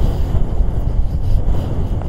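Wind blowing hard during an outdoor hike, a steady loud rumbling buffet on the microphone with no pauses and no voices.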